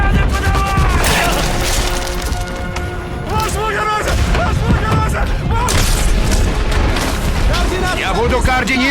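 Naval artillery on the cruiser Slava fires in a sea battle: loud repeated booms and explosions pound continuously under urgent shouted commands and frantic voices.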